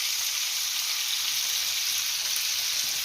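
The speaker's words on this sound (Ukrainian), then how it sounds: "І гарненько вимішується" Thick banosh, a cornmeal porridge, being stirred in a pot, a steady close bubbling and scraping hiss that runs evenly without pause.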